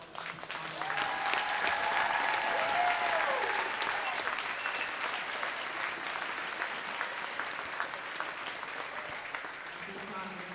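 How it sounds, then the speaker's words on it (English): Crowd applause in a gym for the top eight place winners of a varsity wrestling tournament, sustained clapping over ten seconds with distant voices and calls mixed in. "Ladies and gentlemen, one more round of applause for all."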